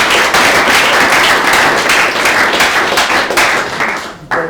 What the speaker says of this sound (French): Cette fois-ci, on peut vous applaudir pour de vrai.